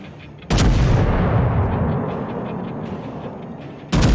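Warship rear guns firing in World of Warships, two heavy booming salvos spaced a few seconds apart, the first rolling into a long fading rumble before the second blast hits, loud and close.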